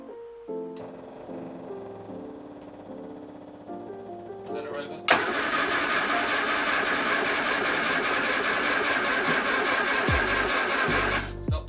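An abandoned MG Midget is cranked on a new starter motor but does not fire. Low tones and clicks come first, then a loud, steady whirring crank runs for several seconds and cuts off near the end.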